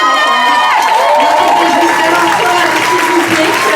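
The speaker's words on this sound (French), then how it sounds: "s'il vous plaît, les derniers applaudissements" A burlesque show audience gives a loud final round of applause mixed with cheering and whoops, with voices calling out over the continuous clapping.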